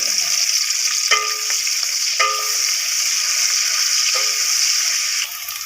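Ginger garlic paste frying in a pan with onions for boneless chicken karahi: a loud, steady close-up hiss, broken by a few sharp clinks of a utensil against the pan.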